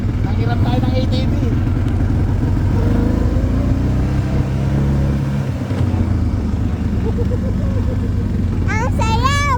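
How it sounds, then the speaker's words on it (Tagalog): ATV quad engine running steadily while riding near Struble Lake, Alberta, a continuous mid-pitched drone throughout, close and loud, with people talking and exclaiming over it. "andito tayo ngayon at nanghiram tayo ng ATV"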